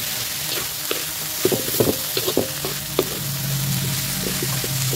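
Sliced bitter gourd (ampalaya) frying in a pan, a steady close sizzle broken by a series of clacks and scrapes as a utensil stirs it around.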